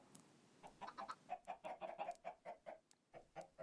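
A Minecraft chicken clucks in a quick series of short, bright calls. They sound close and clear over quiet game ambience, with a brief pause before the last few clucks.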